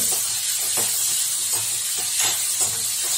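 Curry leaves frying with tomato in a hot pan for beans palya, giving a steady loud hiss and sizzle with faint periodic crackles throughout.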